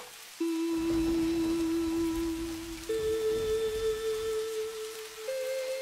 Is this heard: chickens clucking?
no